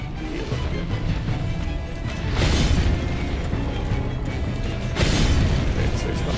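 A boss's explosion attack in Dark Souls Remastered: two broad, roaring blasts swell out of a dense, rumbling combat din, each lingering loudly before fading back into the steady background noise.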